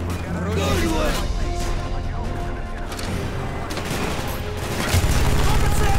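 Sustained minigun fire in Call of Duty Black Ops, a loud continuous rattling stream of rapid shots layered with battle noise, with shouting voices over it.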